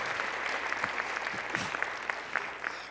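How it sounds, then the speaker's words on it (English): Audience applause at a women's summit event in Calgary, a steady wash of many hands clapping for the speakers, dense and continuous with scattered sharper claps throughout. "Let's give a huge round of applause to all the amazing speakers we had so far"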